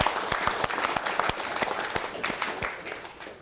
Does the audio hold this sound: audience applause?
yes